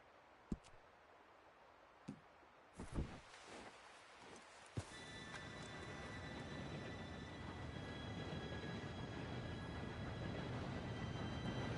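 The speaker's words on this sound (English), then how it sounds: "Train should be here any minute now." A train arrives in the Red Dead Redemption 2 game world, a broad rumbling roar that swells and holds steady after a few sharp clatters and thumps, with a faint whistle-like tone running over the top.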